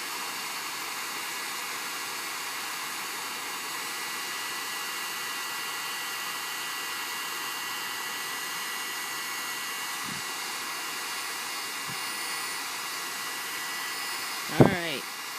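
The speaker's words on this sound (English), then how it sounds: "my embossing gun is a Martha Stewart embossing gun that I got at Michael's" A Martha Stewart embossing heat gun blows with a steady, even hiss through the whole stretch, lasting without a break, then a few short clicks and a brief knock come near the end.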